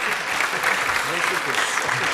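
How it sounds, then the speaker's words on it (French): Audience applause in a French verbal-jousting final, honoring two young performers as they leave the stage: dense, steady clapping from a full room, loud and continuous throughout with no pauses. "On peut encore les applaudir bien fort le temps qu'ils sortent"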